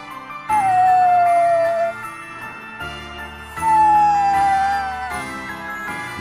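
A lost pet dog in Bravely Default II gives two long, drawn-out whimpering whines that slide downward in pitch, with a soft gap between them and gentle background music underneath.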